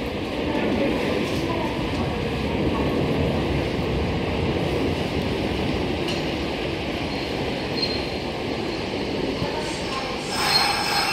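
A Kintetsu 5800 series train with a wrapped livery pulls out of Osaka Uehommachi station as a local service. Wheels squeal loudly and continuously over a steady rumble, with a brief louder burst near the end.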